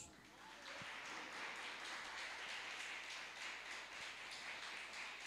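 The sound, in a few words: congregation applauding in church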